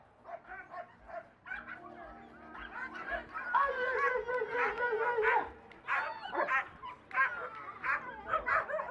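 Racing greyhounds at a track race championship in Uganda bark, yip and whimper in quick, uneven bursts nearby, while voices murmur in the background.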